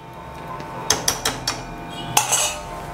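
A metal lid set onto a cooking pot of village-style mutton curry, several sharp close clinks and clatters in quick succession, then one more clank after a short pause.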